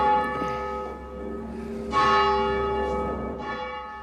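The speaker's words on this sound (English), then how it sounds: "Francis Keyes rings two bells, one small, one large." Cathedral bells ring the noon Angelus, a small and a large bell, struck in separate resonant strokes that bloom and fade with long sustained tones, heard clearly and alone.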